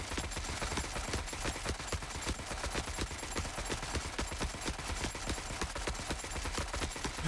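Rapid sustained automatic gunfire in the war shooter Forever Winter, a dense continuous rattle of shots lasting several seconds, fairly quiet and distant-sounding in the mix.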